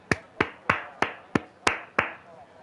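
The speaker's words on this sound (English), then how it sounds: "give him an old clap there?" Seven sharp, evenly spaced claps at a steady rhythm, each crisp and close with a short decaying tail, heard alone without talk.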